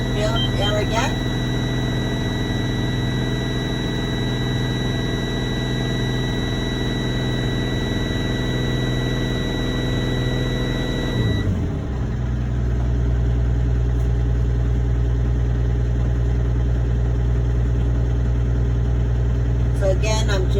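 A truck's diesel engine drones steadily with a low harmonic hum, then shifts to a deeper, rougher idle midway as the throttle changes while the air tanks build pressure, loud and continuous throughout.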